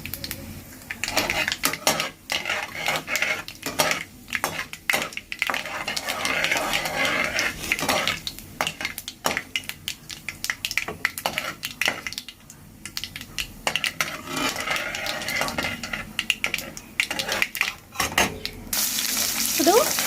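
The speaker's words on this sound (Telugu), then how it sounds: "ఇప్పుడు తాలింపు వేగాక ఆనియన్ వేసేసాను. ఆనియన్ బాగా వేగాలి" Onion fries in hot oil after a tempering of urad dal and green chillies, with a steady sizzle broken by repeated scraping and clanking of a spoon stirring in the pan, close and fairly loud throughout.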